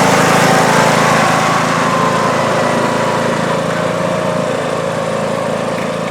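A John Deere D105 lawn tractor's engine runs at spring start-up, a loud, steady mower-like drone held close and unbroken throughout with no talk.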